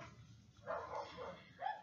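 Dogs barking somewhere off in the distance, a few faint muffled barks and yips spread across a quiet indoor background.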